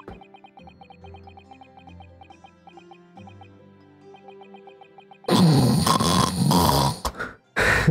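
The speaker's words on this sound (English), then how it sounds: "God damn, Mr. Naruto, you snore very loudly" Loud snoring sound effects from the Great Ace Attorney video game come in rough, close bursts after a soft musical passage, each snore followed by a short gap.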